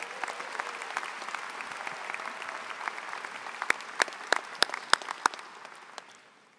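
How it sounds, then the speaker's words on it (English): A commencement crowd at Michigan Ross applauds steadily, a dense wash of clapping with several sharp, prominent claps standing out before it fades away. "big round of applause for our Dean Sharon."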